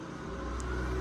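A small ride-on vehicle is started and runs with a steady, close motor hum and a faint buzzing drone, continuous throughout with no talking.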